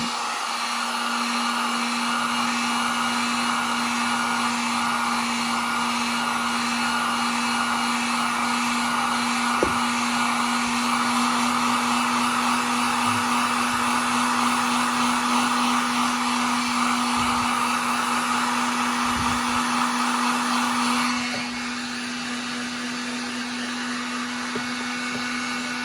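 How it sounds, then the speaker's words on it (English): Heat gun blowing steadily on a freshly coated liquid crystal mood-ring tumbler, a continuous loud airy roar with a steady hum that drops in level near the end, with no talking. "After which I would have hit it with a heat gun."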